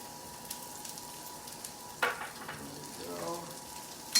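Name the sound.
carrots frying in oil in a pan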